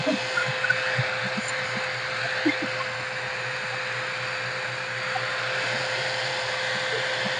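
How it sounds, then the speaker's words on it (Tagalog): A 5 in 1 hair blower with a curler attachment runs steadily, giving a constant whirring hum with a thin high whine, with faint scattered thumps and handling noises throughout. "Ginamit ko muna yung blower."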